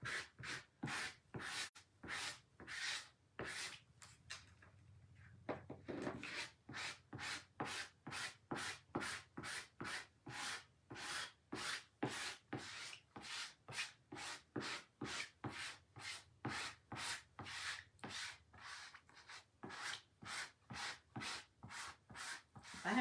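A large squeegee drags chalk paste across a stencil for a Chalk Couture tree design in steady back-and-forth strokes, each a short rasping scrape repeated rhythmically and close, with no talking.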